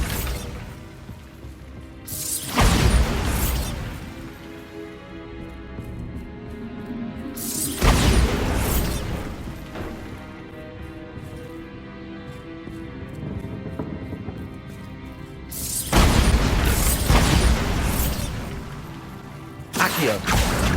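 Bombarda blast spells in Hogwarts Legacy set off heavy, booming explosions that crash out roughly every five seconds, with ringing debris and rumble lingering between hits.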